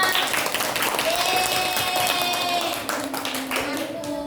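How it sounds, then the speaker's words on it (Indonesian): A classroom of students applauds a student group, a burst of dense clapping that thins toward the end, with a voice speaking over it. "Beri tepuk tangan untuk kelompok 5."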